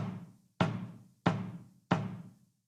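Three evenly spaced, booming bass drum kicks played heel down, each a deep thud that rings out and decays before the next, played alone at a moderate pace.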